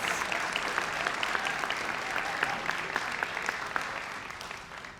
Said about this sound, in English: How about another round of applause for our candidates